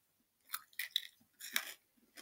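Hard, crunchy Lemonhead lemon candy being chewed close to the mic, with several distinct crunching bursts and short quiet gaps between bites.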